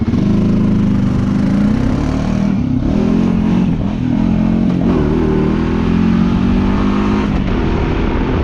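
A deep, throaty engine exhaust burbles steadily at low revs in low gear, loud and close, with a few slight throttle swells and no talking.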